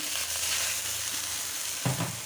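Onions frying in a pan, a steady bright sizzle, then coconut milk is poured in near the end, causing a sudden louder burst of bubbling.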